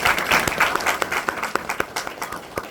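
Audience applause at a gathering for a business presentation, a dense burst of many hands clapping steadily throughout, loud and close with sharp individual claps standing out.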